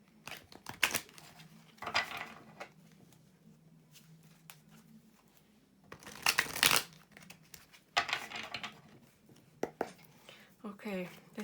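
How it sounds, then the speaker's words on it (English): A deck of tarot cards is shuffled by hand in several short, crisp riffling bursts separated by quiet pauses, heard close and fairly soft. "I'm just going to shuffle these cards a little bit."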